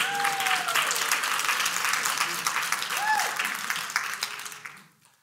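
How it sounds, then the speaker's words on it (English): A church congregation gives sustained applause and hand claps for the Lord, a dense crackling roar with a few whoops, tapering off and fading out at the end. "Give the Lord a hand clap."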